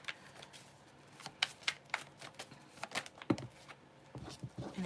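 Tarot cards being shuffled by hand in a quiet room, a series of quick papery riffles and taps, close and fairly soft.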